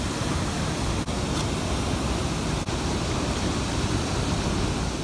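Water pouring steadily into a sprouting jar of legumes, a continuous broadband rush that fills the clip at an even, fairly loud level with no talk.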